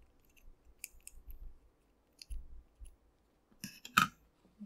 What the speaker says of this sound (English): So now we can also cut the yarn.